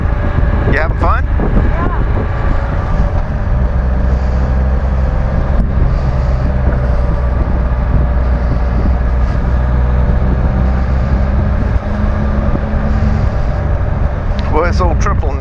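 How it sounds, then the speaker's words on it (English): A 2014 Can-Am Spyder RT three-wheeler's three-cylinder engine running while riding on a back-country highway, a loud steady low drone with heavy wind rush across the microphone. "This old triple in this thing is like a tractor."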